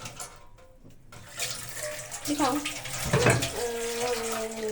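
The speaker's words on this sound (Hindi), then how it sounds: "ये देखो हाथ पानी आ रहा है" Water runs from a household tap while a young child's hands are washed, a steady close splashing hiss that builds and continues under a woman's speech.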